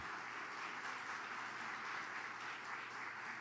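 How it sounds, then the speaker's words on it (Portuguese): A church congregation applauds together, a steady, even wash of clapping heard at a moderate distance without breaks. "Vamos aplaudir o Senhor aí bem forte"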